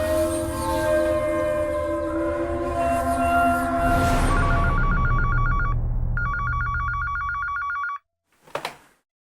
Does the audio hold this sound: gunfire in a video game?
no